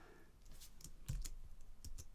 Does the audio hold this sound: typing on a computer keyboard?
yes